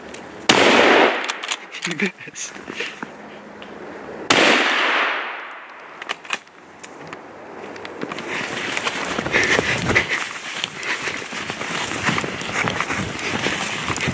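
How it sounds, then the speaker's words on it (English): Rifle shots ring out during a Pennsylvania deer drive in the snow: a sharp loud report near the start and another around four seconds, followed by rustling movement through snow and brief voices. "I couldn't tell the last shot."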